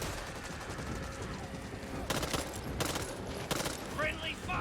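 Gunfire in the co-op zombie shooter Back 4 Blood, with a steady roar of shooting and several sharper bursts of loud shots partway through, mixed with game effects and voices talking over it.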